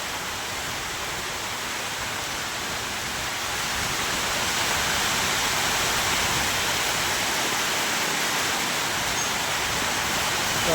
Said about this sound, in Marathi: इथं समोर असं पत्राच्या खाली पाणी पडत पाणी भरपूर साचले